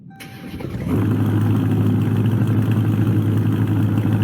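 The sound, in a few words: 2023 Dodge Charger Daytona engine startup in Greenville video game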